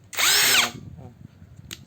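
A cordless drill whirs loudly for about half a second, spinning up and winding down, followed by faint handling noises and a short burst at the end.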